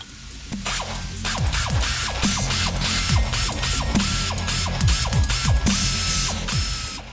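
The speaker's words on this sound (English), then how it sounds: "using spanners or ratchets, nip the fixings up before using a torque wrench set to 33 newton meters" A hand ratchet nips up the prop shaft fixings on a Land Rover Defender, clicking rapidly in repeated strokes, each with a sliding rasp, close and steady throughout with no voices.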